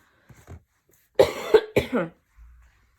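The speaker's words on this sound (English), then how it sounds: "having a lot of cough for these days" A few small throat sounds, then a burst of two or three harsh, close coughs in quick succession, with a faint rustle after.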